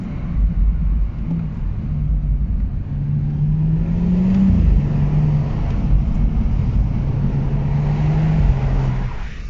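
A car engine rumbles steadily with a rising rev around the middle, heard close over continuous road noise, no talking.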